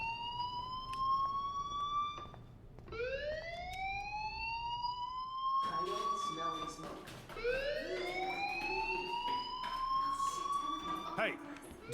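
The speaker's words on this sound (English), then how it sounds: "do you hear that fire alarm? That means you should be outside." Fire alarm ringing in the Life is Strange video game, a repeating electronic siren whose rising wails sweep upward again and again, loud and close, with other sounds briefly mixed in.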